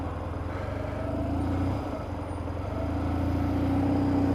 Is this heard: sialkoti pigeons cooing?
no